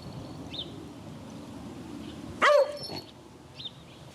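A dog wearing a collar with a bell gives one sharp close bark over a low steady background rumble, with faint higher whines or chirps before and after.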